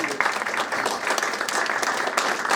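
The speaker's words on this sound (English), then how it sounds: "So can I request all of you to stand up for a minute in honor of the audience" A seated conference audience stands for an ovation, applauding steadily and densely throughout at fairly close range, with a few louder individual claps standing out from the crowd.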